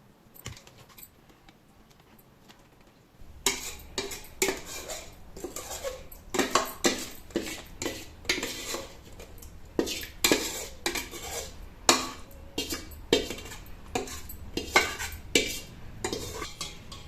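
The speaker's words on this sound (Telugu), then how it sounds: "చూసారా, నేను చేతులే పెట్టకుండా ఎలా కలిపేసుకున్నానో ఈజీగా" Mango pickle mixed in a bowl with utensils: after a quiet start, rapid rhythmic clinking and scraping of metal spoons against the bowl, brisk and close, with no voices.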